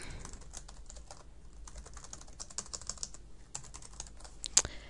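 Someone types HTML head and title tags on a computer keyboard, a steady run of quiet, close key clicks with a few louder taps near the end and no talking.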